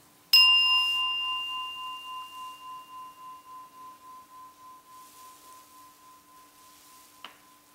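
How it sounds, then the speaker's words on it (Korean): A meditation bell is struck once and rings with a clear, sustained tone that slowly fades with a gentle pulsing shimmer, followed by a faint tap near the end, in a quiet room. "종소리와 함께 시작을 하겠습니다."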